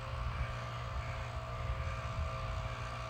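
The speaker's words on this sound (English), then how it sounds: "Oh, he's got his blower out, I think." A leaf blower runs in the distance outdoors on a morning, a steady, even droning roar with no pauses and no voices over it.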